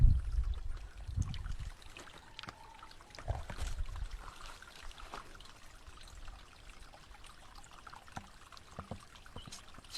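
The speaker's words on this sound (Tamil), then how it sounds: "ஃப்ரெஷ் வாட்டர் ஊற்று வரும் இடம் பாருங்கள். தண்ணி உருவாகி வருது" Fresh spring water seeps and trickles out of the ground, a faint, close, gentle pouring and dribbling that is a bit stronger at first and then settles into a soft, continuous trickle.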